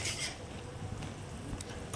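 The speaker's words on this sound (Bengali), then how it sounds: "আরও খানিকক্ষণ নাড়াচাড়া করতে হবে সুন্দর করে" A utensil stirs fried pointed gourd (potol) in a pan on the stove, with soft scraping and clinks over a faint sizzle and light metallic taps near the end.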